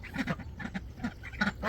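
Pekin and blue runner ducks in a pen quack in quick repeated bursts, fairly close but moderately quiet, with no one talking.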